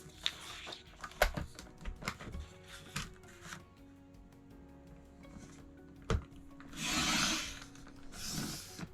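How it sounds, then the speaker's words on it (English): Paper trimmer cutting a border strip off cardstock: scattered soft scrapes, taps and rustles, then two longer rasping slices near the end, quiet and close with no talking. "I need to trim this border off"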